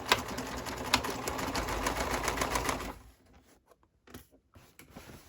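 A sewing machine backstitches a seam on a tote bag: a dense, steady mechanical whir for about three seconds, then it stops, leaving faint handling clicks.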